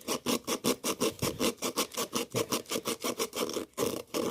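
A carved wooden spoon rubbed with 80 grit sandpaper in fast, even back-and-forth strokes, a loud rhythmic scratchy rasp heard up close with no voices.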